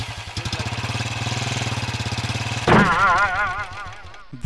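A Bullet motorcycle engine thumping in a steady, fast idle rhythm, loud and close, then revving up with a wavering rise in pitch.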